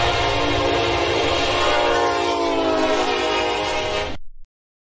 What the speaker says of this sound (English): Ah, what a nice day it is to just be driving a train.